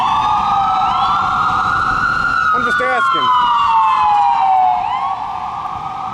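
Wailing ambulance siren sweeping up and down continuously, loud and near, with a brief voice speaking partway through and traffic rumble underneath.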